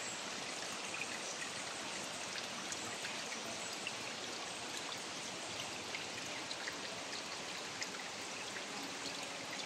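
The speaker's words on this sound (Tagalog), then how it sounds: "May tubig siya, guys. Ayun ang tumutulo, ang lakas." Water drips and trickles strongly in a steady, dense wash of sound that holds at the same level throughout, close by, with no one talking.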